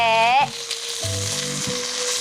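A steak pan-frying gives off a loud, steady sizzle that runs the whole time, with a few brief tonal sounds laid over it and no talk.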